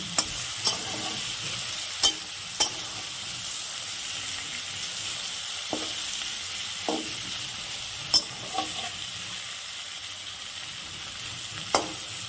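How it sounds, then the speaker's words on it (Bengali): Giant freshwater prawns being turned over while frying in a pan: a steady close sizzle broken by several crisp spatula clicks and scrapes at uneven intervals. "মাছগুলো আমি উল্টে দিই একটু।"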